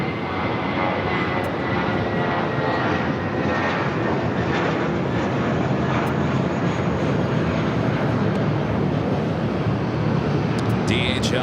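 A Boeing 747 jet departs LAX bound for Lima, its engines giving a loud, steady, broadband roar that holds for the whole stretch with no letup.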